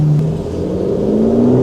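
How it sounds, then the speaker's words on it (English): Aston Martin DBS Ultimate 770 V12 biturbo engine revving, a loud, close, deep droning roar whose pitch climbs steadily over a brief moment. "V12 Biturbo is so amazing. It sounds roary like a 6-cylinder."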